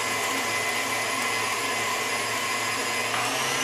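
An electric mixer at medium speed beats eggs into cookie dough for Christmas cut-out cookies, giving a loud, steady motor whir that holds unbroken throughout.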